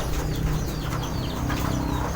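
Racing pigeons in a loft: a dense, close murmur of soft cooing and rustling from many birds, continuous with no pauses and no talking.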